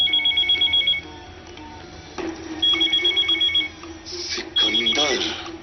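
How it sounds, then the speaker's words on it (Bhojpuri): A telephone rings in bursts of rapid electronic trills, three separate rings with pauses between them, mixed with background music and sound effects from a Bhojpuri film scene. "भैया जी फोन।"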